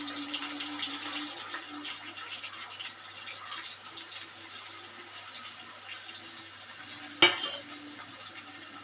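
Whole masala spices frying in a pan with green chillies, a quiet hissing sizzle with faint stirring scrapes, then a sharp clatter near the end followed by a smaller knock, no voices.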